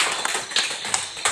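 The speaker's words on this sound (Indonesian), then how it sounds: "Ya, tepuk tangan dulu untuk kelompok 3." Schoolchildren in an elementary classroom clap for the winning group after a class game, giving a short, uneven burst of hand claps and taps at close range with no talking.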